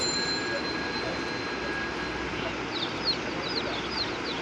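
Chicks and chickens for sale at a busy market give off a run of high, quick peeps and chirps in the second half, over a steady crowd and engine-like hum.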